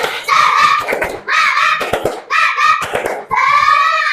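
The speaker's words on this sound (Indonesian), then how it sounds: "Tepuk semangat" A classroom of children performs the Indonesian 'tepuk semangat' spirit clap, chanting together in short loud bursts punctuated by sharp rhythmic hand claps, four phrases in quick succession.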